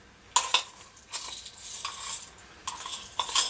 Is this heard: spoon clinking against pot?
yes